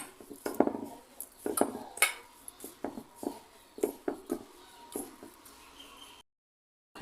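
Dough being mixed by hand in a bowl with sugar and refined oil for aloo paratha, giving a run of close, irregular clinks, taps and scrapes against the bowl that fade to silence near the end.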